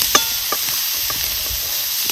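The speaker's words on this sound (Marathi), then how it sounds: "आता ही खिसून घेतलेलं बीट आहे ना, ह्याच्यात आपल्याला चांगलं असं परतून घ्यायचं." Grated beetroot sautéing in hot ghee for halwa, a continuous close sizzle broken by a few sharp spoon scrapes and taps against the pan.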